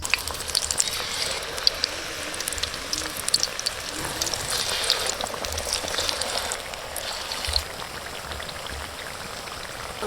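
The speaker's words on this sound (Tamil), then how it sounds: "இதே மாதிரி மீதி இருக்கிற மீனையெல்லாம் பொரிச்சு எடுத்துக்கலாங்க." Fish sizzles steadily in hot oil during home-style frying, a dense, close crackle with scattered spitting pops that holds throughout without any talk.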